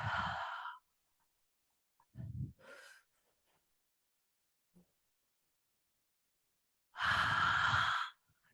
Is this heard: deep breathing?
yes